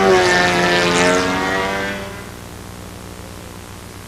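Four-stroke radio-controlled model airplane engine in flight, a P-51 model at a windy field, droning loudly with a steady harmonic tone that fades away over the first two seconds.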